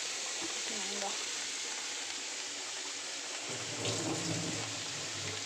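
Steady sizzling and crackling of something frying in a pan of oil before turmeric and prawns go in, continuous and fairly quiet, with a brief stir or scrape partway through.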